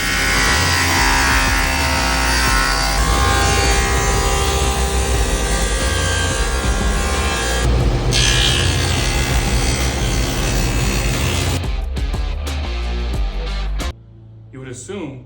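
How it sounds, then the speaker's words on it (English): Laguna F2 table saw cutting with a dado stack, a loud sustained roar of blade and motor for about twelve seconds before winding down, with a few knocks at the end. "Let me demonstrate some of this power with a dado stack."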